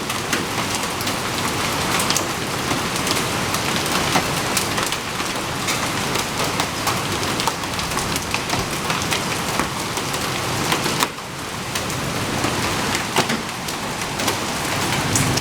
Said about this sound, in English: The hail's big enough. I heard it hitting the roof